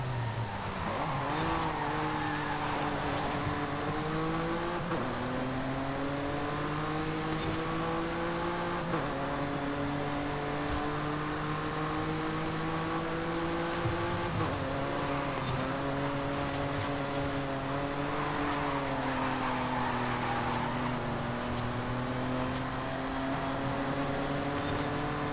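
Engine note of a car in Forza Horizon 5 revs and holds steady for the whole stretch, pitch rising and falling as it drives and slides along, loud and continuous with no talk over it.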